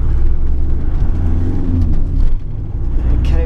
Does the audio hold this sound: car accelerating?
yes